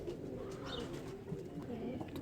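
A pair of pet pigeons coo softly in low, throaty murmurs over a faint, steady background hum, close by but quiet.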